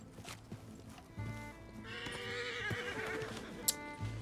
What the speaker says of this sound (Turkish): Burada bir at var.